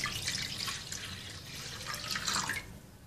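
Water trickles and splashes steadily into a pot, a continuous running pour with a brief louder surge near the end, close and fairly quiet.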